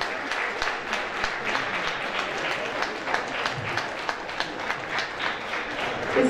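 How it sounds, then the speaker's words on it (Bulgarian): Audience applause at a spring concert by the ensembles of a community culture house, a close, lively patter of many hands clapping continuously with a slight swell at the end. "Аплодисменти за тях."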